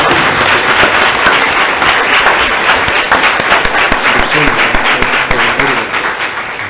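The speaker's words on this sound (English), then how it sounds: "Now you can cheer." Audience at a Boonville, Missouri city council meeting applauds after a vote, a loud sustained burst of crisp hand clapping filling the whole stretch and fading slightly at the end.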